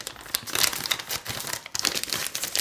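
Scissors crack open a plastic bag of Coopers Brew Enhancer 2 powder during home brewing, giving close, loud crinkling and rustling bursts with a few sharp snips and tearing crackles.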